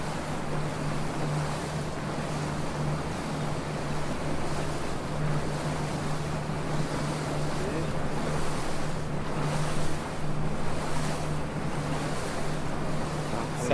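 A fishing boat moves on the Rhône, its steady low motor hum running under continuous washing water and wind noise, moderately loud and even throughout.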